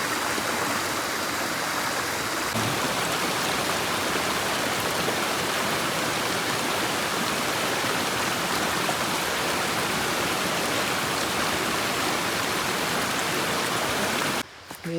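A mountain stream on the Adam's Peak trail rushes steadily, a broad constant wash of flowing water, close and even throughout.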